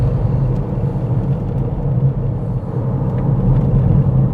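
A car engine pulls uphill on a narrow fast road, a loud, steady low rumble with slight swells as the throttle is fed in, heard from inside the car with no talking.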